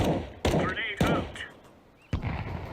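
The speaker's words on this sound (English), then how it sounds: "Grenade out." A grenade is thrown in a tactical shooter video game, with sharp thuds and gunfire bursts in quick succession among other game effects, under a player's voice.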